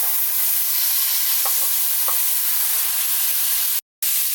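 Curry leaves and sliced tomatoes fry in hot oil for an Indian-style chicken curry, a steady loud sizzle with a couple of faint stirring scrapes and a short break near the end.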